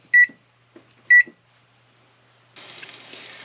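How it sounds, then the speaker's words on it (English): A kitchen timer gives two sharp electronic beeps as it is set while waffles cook, followed after a pause by a steady mechanical hum. "Set a timer for 2 minutes."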